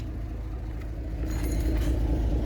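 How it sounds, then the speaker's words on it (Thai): Low, steady engine rumble of a farm tractor pulling away, fairly faint, with a slight rise in level toward the end and no talking. "ไปเลยครับ รถไถก็ไป"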